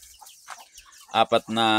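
Chickens on a mini farm, including gamecocks, heritage birds and a white leghorn, give a few loud, close clucks and calls in quick succession after faint background sounds.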